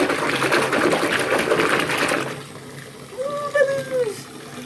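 Bath water runs hard into a tub to raise bubbles from a bubble bar, a loud gushing rush that stops after about two seconds, followed by a brief voice.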